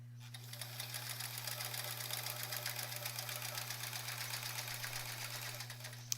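A sewing machine runs continuously for free motion quilting on a sampler block, a close, steady mechanical whir with a rapid needle patter and a low motor hum.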